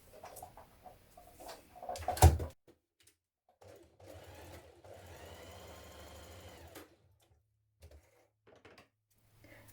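A sewing machine stitches a seam joining two short edges of fabric for a copied top. It runs in short, quiet whirring bursts: a brief run, then a longer steady stretch of stitching, with soft handling noises between.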